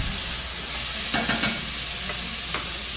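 Meat searing in a hot pan, a steady broadband sizzle that stays even throughout, with a few short clinks of a utensil against the pan partway through.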